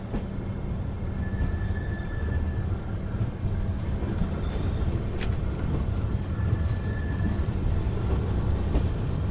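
Riding aboard a locomotive-hauled express between Sairang and Bairabi in Mizoram, with a steady low rumble and rolling rattle of the carriages, occasional faint squeals and clicks over the track, and no break throughout.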